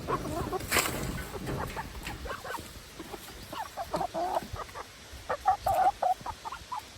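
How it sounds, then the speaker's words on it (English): Backyard hens cluck steadily, close and fairly loud, as they gather around a kale plant in a garden one morning. Their calls are irregular and overlapping, with a few sharper squawks. "The chickens will eat well this morning."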